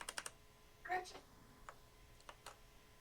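Computer keyboard keys are pressed in a few sparse, faint clicks spread across the moment, with a brief murmur of low voice in between.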